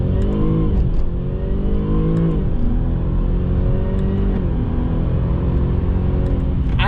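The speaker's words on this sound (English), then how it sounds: "that supercharger freaking whines" A supercharged Jaguar XF 35T accelerates hard, its engine rising in pitch through several gear pulls while a supercharger whine runs over it, heard from inside the car with no talk.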